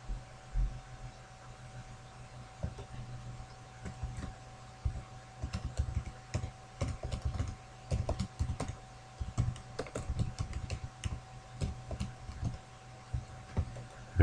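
Steady typing on an English-layout computer keyboard, a quick run of close, crisp key clicks with irregular rhythm and bursts of faster presses, alone over a faint steady hum.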